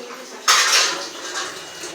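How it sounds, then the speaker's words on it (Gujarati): Dishes, pots and utensils being washed at home: a sudden clatter of metal ware against the sink, then continued scraping and clinking with running water, close and fairly loud. "મમ્મી વાસણ ધોવે છે"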